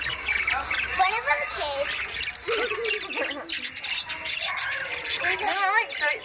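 Several birds squawk and chirp in a pet store, a busy overlapping chatter of harsh calls and whistles, with people talking briefly over them.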